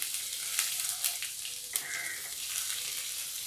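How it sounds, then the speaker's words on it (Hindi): Ginger, garlic, crushed cumin and chopped green chilli frying in very hot oil: a bright, steady, close crackling sizzle with a few sharp pops and spits, no voices. "अभी हम इसमें डालेंगे ये जिंजर गार्लिक और जीरा कुटा हुआ और ग्रीन चिल्ली चॉप किया हुआ"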